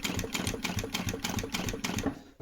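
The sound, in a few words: sewing machine stitching leather motorcycle seat cover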